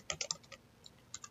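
Typing on a computer keyboard while writing code, a quick burst of several crisp key clicks followed after a short gap by a few more taps, close and fairly quiet with no talking.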